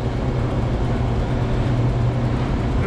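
An Amtrak Northeast Regional passenger train at boarding gives off a steady, loud low rumble and hum with no clear voices.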